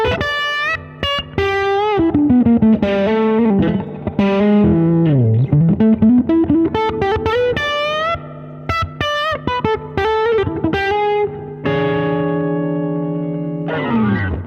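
Distorted Fender Telecaster electric guitar plays a gritty riff with bends and slides, ending on sustained crunchy chords that ring out loudly.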